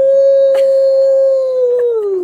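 A voice imitates a howling dog: one loud, close, sustained tonal howl that holds steady and then glides downward at the end.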